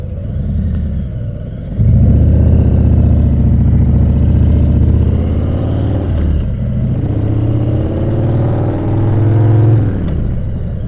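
2018 Harley-Davidson Heritage Classic 114 motorcycle engine, a deep loud close-up rumble that idles briefly then swells into a sustained throaty drone with slight revving rises and dips.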